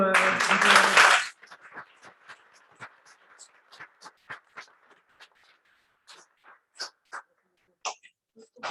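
A loud burst of audience applause for a round-table host at a plastics industry conference lasts about a second, then thins into scattered, sparse claps that fade out.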